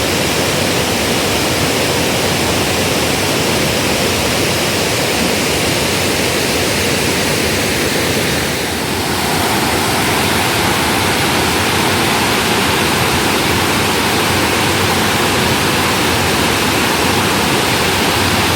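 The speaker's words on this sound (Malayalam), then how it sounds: "ഈ സമയമാണ് നമുക്ക് കറക്റ്റ് ഇതുപോലുള്ള വെള്ളച്ചാട്ടങ്ങൾ ആസ്വദിക്കാൻ പറ്റിയ സമയം" A monsoon-swollen waterfall at Elappally roars in a loud, unbroken broadband rush of water, heard close with no voices, the surge dipping only briefly midway.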